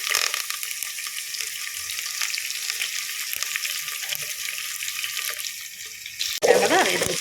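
Crushed garlic and curry leaves fry in a pan with a steady, moderately loud sizzle throughout, followed near the end by a short burst of clatter.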